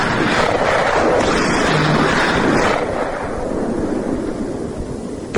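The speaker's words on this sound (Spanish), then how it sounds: "sonaron 2 extraordinarios disparos que hicieron retumbar todo el palacio aquel" Two loud gunshots ring out inside a palace, a dense, booming blast that fills the space and rolls into a long echoing rumble before slowly fading.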